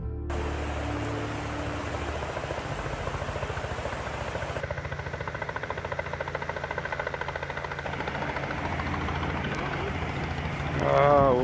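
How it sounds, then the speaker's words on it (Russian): A helicopter drones overhead during a fishing trip on the Kitoy river, a steady loud rotor thrum and engine hum that fills the whole stretch and swells toward the end, with people talking nearby. "А, вот и вертушка."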